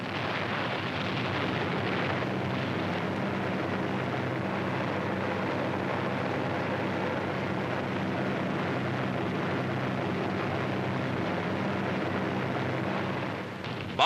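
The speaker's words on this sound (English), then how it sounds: "The vicinity of Caen, one of the main enemy strongholds, is heavily bombed." Heavy bombing by B-26 Marauders near Caen rumbles as a steady, dense roar of blasts and engine drone, loud and unbroken throughout with no voices.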